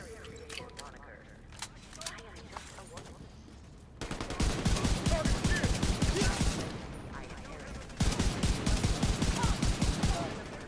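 Gunfire from a weapon in The Division video game: rapid automatic bursts in two long strings, loud and close, with quieter game sounds and voices between them.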